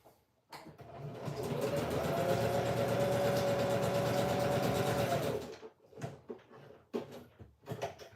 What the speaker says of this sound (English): I don't know if you guys can hear me well with the sewing machine